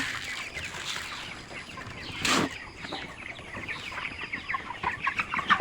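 A crowd of chickens clucking continuously in a poultry shed, busy and overlapping, with a brief burst of louder rustling or flapping midway.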